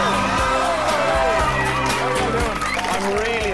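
A television talent-show audience cheers and applauds, a loud, dense crowd roar with whoops and yells mixed with music, continuous throughout.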